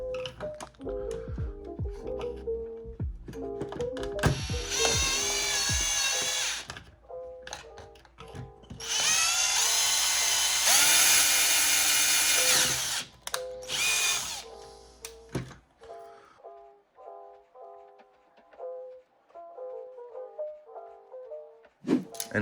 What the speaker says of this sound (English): And then move up to a bigger drill bit